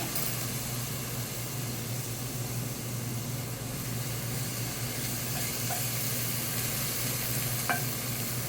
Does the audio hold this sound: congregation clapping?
no